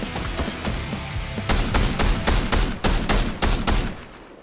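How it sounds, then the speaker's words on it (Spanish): Rapid gunfire in a Fortnite match: a run of loud, evenly spaced shots crack in quick succession over a constant background of game noise, with no talking. "¿Dónde está disparando el otro?"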